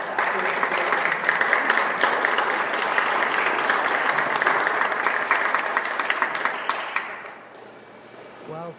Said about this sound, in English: Give a hand clap for Gary.